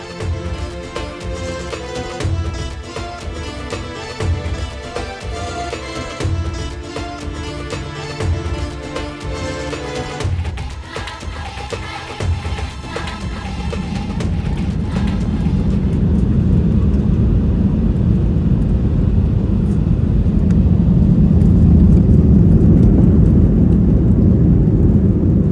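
Inside the cabin of a British Airways A320 airliner, engine noise builds through the takeoff roll from a busy whine into a loud, steady roar as the plane climbs on a Gatwick to Dalaman flight.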